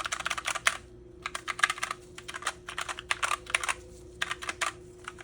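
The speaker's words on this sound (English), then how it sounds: "here's a quick typing sound test" Bursts of crisp, clicky typing on a Glorious GMMK TKL mechanical keyboard, close and fairly quiet, coming in quick flurries separated by short pauses, with a faint steady hum beneath.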